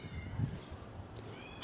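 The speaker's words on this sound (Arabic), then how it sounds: "هذا تومي صوته من داخل يوم سمع صوتي" A cat meows from inside a house, sounding faint and muffled through walls after hearing a familiar voice, with a low room rumble underneath and little talk.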